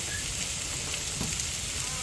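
Chicken pieces sizzling and frying in a pan for Thai chili chicken, a steady, close hiss and crackle with no talking.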